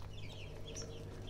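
Hen softly clucking over five Sebright chicks, low repeated clucks over a steady farmyard background, with faint higher chick peeps scattered throughout, close and continuous.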